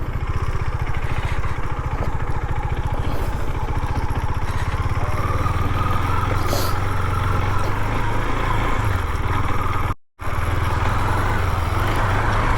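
A KTM Duke 250 BS6 motorcycle fitted with a full Akrapovic exhaust system idles and burbles loudly up close, its steady rumble running nearly unbroken apart from one brief cut, with no talking.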